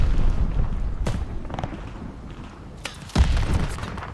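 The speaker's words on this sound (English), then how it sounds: "keep shooting that rocket launcher" Rocket launcher fire in Call of Duty: Vanguard: a dull rumbling battlefield bed with a few soft thumps, then a sharp, loud blast lands near the end and rolls off.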